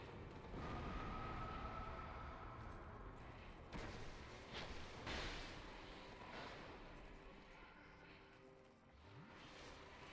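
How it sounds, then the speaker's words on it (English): A boss unleashes an explosion attack in Dark Souls II, a heavy rumbling blast with booming bursts and a sustained roar that fades toward the end. "this is her explosion."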